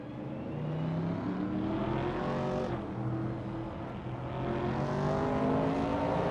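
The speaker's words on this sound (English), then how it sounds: "Epic Sugar is driving a 1970 Chevrolet Camaro" A 1970 Chevrolet Camaro racing engine in a racing video game, a steady droning roar with rising and falling revs as cars run close together, continuous and moderately loud with no talk.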